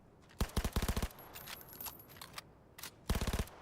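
Automatic gunfire from a gun in Cyberpunk 2077: a rapid burst of about seven close, sharp shots, a quieter pause, a couple of isolated cracks, then another rapid burst of similar length, with no talking.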